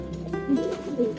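A male pigeon coos while driving its mate, a cross-bred pair being paired off; soft, close, repeated throaty coos form a continuous low murmur over about a second, with no other sounds around.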